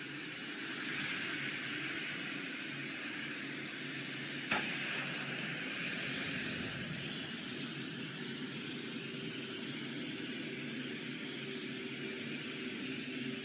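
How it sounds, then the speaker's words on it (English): Kumark blower running with its nozzle removed, a steady broadband rushing whoosh of air with a faint hum underneath, continuous and fairly quiet, with a single small click partway through. "If we remove the nozzle, as you can see on the display, power consumption decreases significantly."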